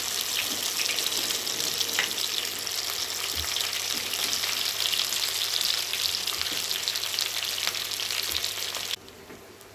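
Masala-stuffed brinjals fry in oil with a steady, close crackling sizzle that runs unbroken for most of the stretch, then cuts off abruptly near the end.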